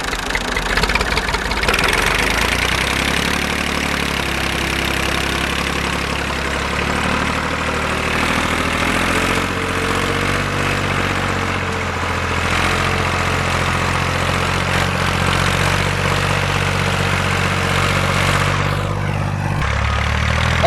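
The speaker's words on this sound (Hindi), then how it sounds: "ट्रैक्टर अभी इसमें हल चलाना शुरू कर देगा" A tractor engine idles steadily before ploughing a village wheat field, a loud, continuous low rumble with a constant throb that holds for the whole stretch, with no talking over it.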